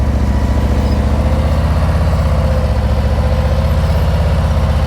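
A motorcycle engine chugs steadily at low revs during slow-speed riding practice, a close, loud, evenly pulsing low throb with no talk over it.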